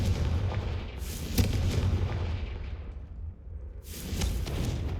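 In the Hogwarts Legacy game, a Confringo blasting spell sets off rumbling booms and whooshing bursts in a low, reverberant wash, with one bright blast near the start and another near the end.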